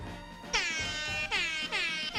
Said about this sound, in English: So an air horn on a phone? That is the rap horn.